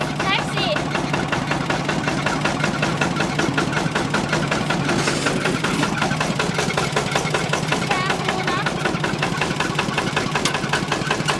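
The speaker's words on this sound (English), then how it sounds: "Very safe, this engine." A taxi's engine idles in a steady, close, rumbling drone for the whole stretch, with people talking over it throughout.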